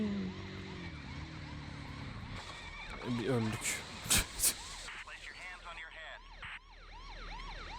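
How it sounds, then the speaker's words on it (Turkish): Police car siren in the Midtown Madness racing video game, wailing up and down in repeated sweeps over game engine noise and clear through the second half, with someone talking over the start. "Polis arabası bize yetişirse öldük bu arada."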